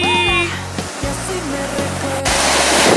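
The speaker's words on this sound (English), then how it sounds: "Much bigger waves." Large ocean waves break in a rocky cove on the Costa Brava as a loud, steady wash of surf, rising into a fuller surge near the end, with no voices.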